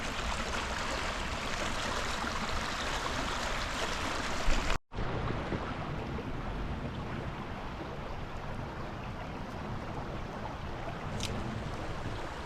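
Creek water pours steadily over a log, making a dense, constant rush that stays loud and close throughout except for one brief dropout near the midpoint.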